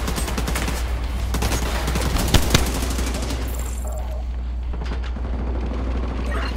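Continuous distant gunfire and explosive rumble fill a combat scene in the video game The Division 2, a steady dense clatter with a couple of sharper cracks near the middle, no voices over it.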